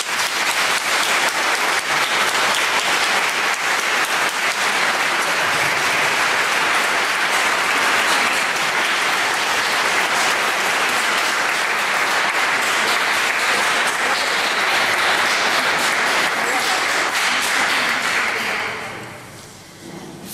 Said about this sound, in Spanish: va este aplauso